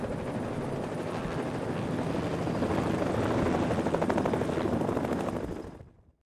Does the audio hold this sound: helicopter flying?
yes